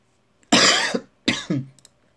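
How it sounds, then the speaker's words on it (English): Two bursts of coughing from a nearby person, each a harsh explosive hack followed by a shorter second cough, separated by a brief pause, loud and close with no talking. "Yeah, I'm still coughing."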